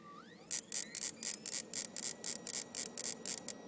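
A Mitsubishi DLP TV starting up, heard from behind near the lamp: a faint rising whine, then a rapid, steady series of about a dozen sharp ticking clicks, close and fairly loud with no talking.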